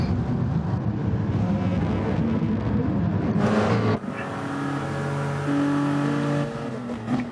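Race cars in the GT Sport video game accelerate with unusually fast pickup, a steady engine drone that cuts off abruptly midway and resumes as rising, sustained revving tones, fairly loud with no talk.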